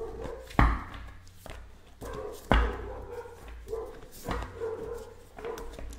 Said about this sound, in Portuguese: Os cachorros passam na rua. E os meus cachorros surtam.